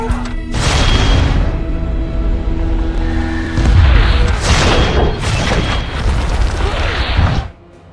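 Artillery cannons fire in a film battle scene, with several heavy booming blasts and crashing bursts in close succession, loud and close, ending abruptly.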